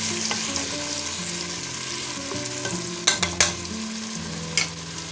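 Peppers and onions sautéing on medium-low heat in a pan, a steady soft sizzle throughout with a few sharp scraping clicks of a utensil stirring them near the end.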